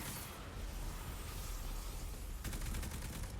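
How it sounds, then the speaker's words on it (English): Rapid gunfire in Destiny 2 while shooting runes on a labyrinth wall, a dense continuous burst of shots, fairly faint and steady, intensifying near the end, with no voices. "we just have to shoot the rune on the wall"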